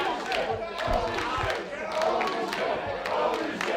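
A wrestling crowd at a TLC match cheers and shouts in a continuous roar, with thumps and claps mixed in while a commentator talks over it.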